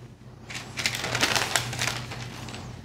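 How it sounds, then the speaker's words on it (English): Burger meat is smashed flat in a hot cast iron skillet, giving a sudden crackling sizzle that swells and sputters close up for a couple of seconds with no talking. "I'm going to smash this."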